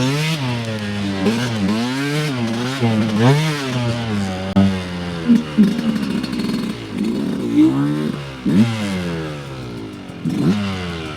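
A two-stroke dirt bike rides a woods trail, its engine rising and falling in rapid revs and throttle blips, loud and close throughout.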